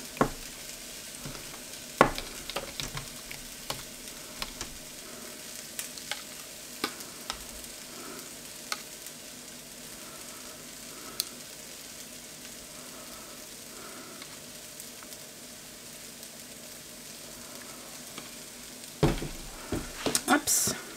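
Greek yogurt batter stirred in a bowl, soft wet mixing with a few sharp clinks of utensil on bowl, faint and close, with a louder clatter near the end.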